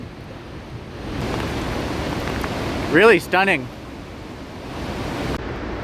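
A swollen waterfall roars after heavy rain, a steady broad wash of rushing water that fills the scene from start to finish, with a person briefly speaking over it near the middle.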